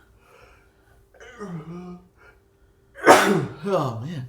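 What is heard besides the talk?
sneeze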